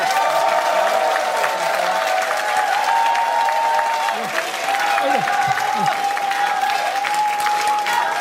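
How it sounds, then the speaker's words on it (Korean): Audience applause welcoming a guest speaker at a Korean national forum, steady and dense clapping filling the hall, with a sustained tone and some voices under it. "모두 큰 박수로 맞아주시기 바랍니다."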